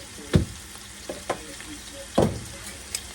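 Cooked ground beef sizzles in a pan as dehydrated garlic and onion are added, with a faint steady fry broken by a few sharp scraping stirs of a utensil.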